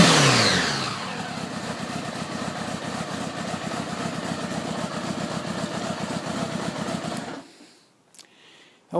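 A 1976 Honda Goldwing motorcycle engine, recorded on a cold day, revs briefly and then runs in a steady, close, pulsing idle for several seconds before cutting off into near silence.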